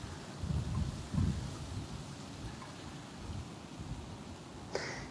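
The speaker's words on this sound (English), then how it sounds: "It rained and it rained" Heavy rain pours in a continuous hiss while deep thunder rumbles low and close, swelling twice early on and again faintly later, ending with a sharp crackling burst.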